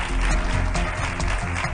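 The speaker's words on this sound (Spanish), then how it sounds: "Un fuerte aplauso para él." Studio audience applause on a Spanish late-night television show, a dense, loud burst of clapping from the crowd that fills the short clip without any voices over it.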